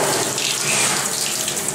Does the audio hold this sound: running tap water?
yes